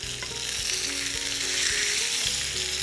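Barramundi fillet frying in a non-stick pan, a dense, steady close sizzle as the fish is turned, with faint low clatter from the pan underneath and no talking.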